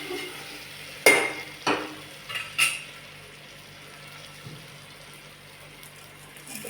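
A spoon stirs khichdi with coriander powder in a pot, a few distinct scraping knocks against the pan early on, then a quiet steady sizzle with no talk.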